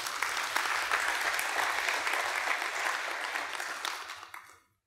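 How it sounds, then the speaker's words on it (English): A church congregation applauding, a broad rush of clapping that holds steady for about four seconds and then dies away to silence, heard alone without speech. "you can clap for that if you want"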